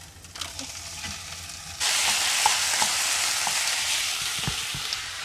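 A sudden loud burst of frying as a big slab of meat for chili hits a hot pan, then a steady hissing sizzle with occasional spoon scrapes, close up.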